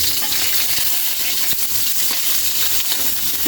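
Onion and garlic sauté in hot oil with ginger in a pan for a mung bean stew, a loud, dense, continuous sizzle with faint stirring clicks, close and without speech.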